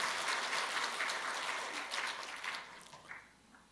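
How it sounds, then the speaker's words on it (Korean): Audience applause at a church Sunday school teachers' award ceremony, as a certificate and prize are presented; steady dense clapping from a large crowd that fades out toward the end. "상장과 부상을 드립니다. 큰 박수 부탁드립니다."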